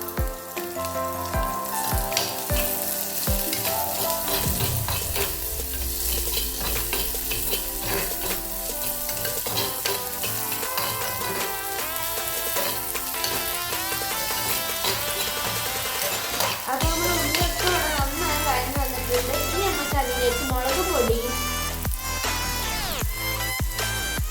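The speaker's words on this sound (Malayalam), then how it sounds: "ഇനി നമുക്ക് അതിലേക്ക് ഇഞ്ചി വെളുത്തുള്ളി പച്ചമുളക് ഇട്ട് കൊടുക്കാം ഇനി നമുക്ക് അതിലേക്ക് ചെറിയ ഉള്ളി ഇട്ട് കൊടുക്കാം" Ginger, garlic, green chilli and shallots crackle and sizzle in hot oil on an induction cooker, a loud continuous fry with scraping stirs throughout and no voices.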